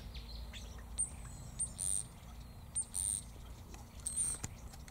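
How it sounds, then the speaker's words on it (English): Rosella parrots call from high in an Acacia pendula tree, sending out a few thin, high whistled notes at a distance over faint rustling and outdoor background hiss. "there are still parrots up there in the foliage"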